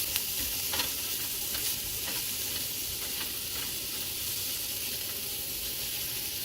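Spinach, mushrooms and peppers sizzle steadily in a hot pan, a dense continuous hiss of frying with faint stirring scrapes, close and alone without talk.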